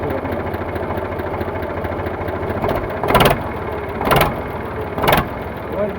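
A 2015 Eicher 485 tractor engine idles steadily and close up, a continuous low rumble with three brief louder bursts.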